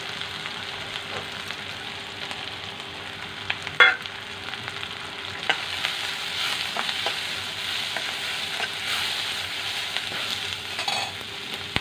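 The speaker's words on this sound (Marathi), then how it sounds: "ह्याच्यामध्ये मसाले टाकायचे।" Spices for a prawn masala fry in hot oil with a steady, moderate sizzle, broken by occasional scraping clicks as a spoon stirs the pan, with no talking.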